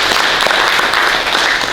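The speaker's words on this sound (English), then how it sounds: "So a round of applause to our main promoter." A press conference audience gives a round of applause for the main promoter, a brief, dense burst of clapping close and loud throughout.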